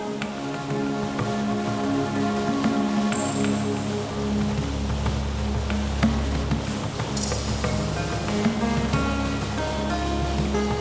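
A boat cruising north on the Chao Phraya River in Thailand: a steady, continuous rush of churning water and wash with a low rumble underneath, no voices.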